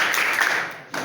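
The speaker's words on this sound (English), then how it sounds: "Let's clap for him, please." A brief burst of steady applause from an audience clapping to welcome a judge at a speaking event, close and even, easing slightly before picking up again at the end.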